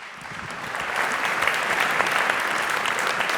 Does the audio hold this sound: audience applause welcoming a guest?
yes